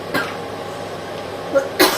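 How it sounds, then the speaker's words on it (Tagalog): A couple of short, sharp coughs ring out near the end, after an earlier brief burst, over a steady background hum. "Parang inuubo ako."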